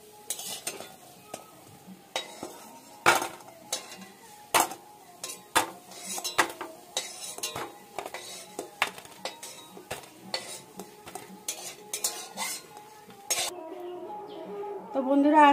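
Crisp coconut fritters finish frying in a pan and are lifted out, with repeated close metal clinks of a spatula or slotted spoon against the pan over a light sizzle; a soft voice is briefly heard near the end.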